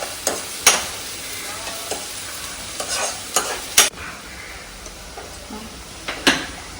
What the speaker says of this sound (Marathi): कांदा हा छानपैकी भाजून झालेला आहे, तळून झालेला आहे, मी फ्राय केलेला आहे मी त्याला.